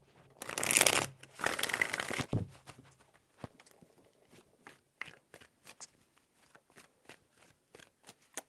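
Tarot cards are shuffled close up in two loud riffling bursts, followed by a series of soft, scattered taps and flicks as the cards are handled and laid down.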